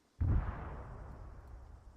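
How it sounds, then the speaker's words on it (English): A big explosion in the military video game Arma 3, a sudden heavy boom that rolls into a long, fading rumble with no other sound. "That was a big explosion."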